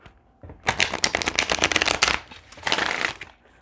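Tarot cards are shuffled in two brisk, crackling bursts, with a short pause between them, close up and with no talking.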